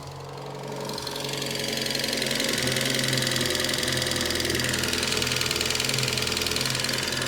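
A Citroën BX 16Valve engine runs after 18 years unused, a steady close mechanical idle with a busy ticking, knocking texture that swells in over the first second and then holds constant, with no voices.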